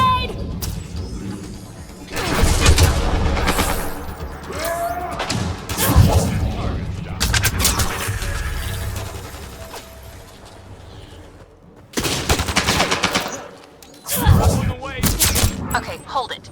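Grenade blast and gunfire in the video game Mass Effect: Andromeda: repeated loud bursts of shots and booms across the clip with brief pauses, dense combat noise, and a voice heard briefly in the mix.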